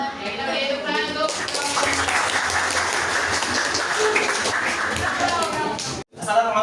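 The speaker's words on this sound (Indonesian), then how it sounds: "kita beri tepuk tangan untuk" Classroom audience applauds after a student's mathematics presentation, a dense wash of clapping from many hands filling the room for several seconds before cutting off abruptly, with faint voices mixed in.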